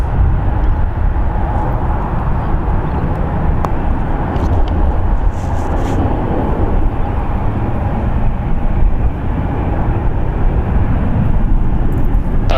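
An Air Canada Boeing 737 MAX 8, four years old and arriving from Toronto, lands at San Francisco International Airport with a loud, steady jet roar that does not let up for the whole stretch.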